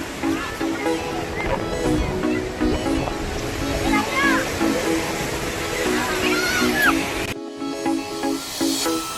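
Ocean waves wash steadily on a crowded Pondicherry beach, a continuous broadband surf roar beneath a busy crowd, with nearby voices talking over it throughout and a brief dip near the end.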